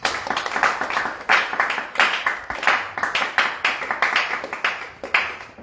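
A church congregation claps in a fast, steady rhythm while acclaiming Jesus during a prayer service, the loud, dense hand claps continuing without pause throughout.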